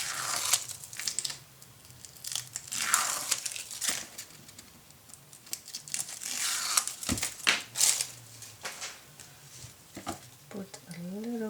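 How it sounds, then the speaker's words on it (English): Tape peeled off a paper craft mini album, close crinkly tearing and rustling in uneven bursts, with a voice talking over parts of it. "Let's peel the tape off."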